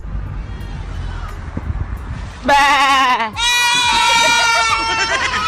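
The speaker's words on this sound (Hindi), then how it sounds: "इस बागड़ बिल्ले से मिली है जो कार में बैठा बकरी बनने पर उतारू है" A cat sitting in a car lets out two loud, drawn-out bleating cries like a goat, the first brief and the second longer and sustained, after a stretch of muffled background noise.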